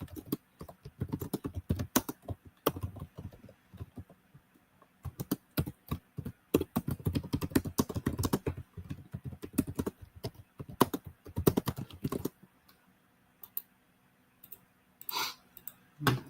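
Fast bursts of typing on a computer keyboard, close and clicky, running steadily for about twelve seconds before thinning to a few scattered keystrokes.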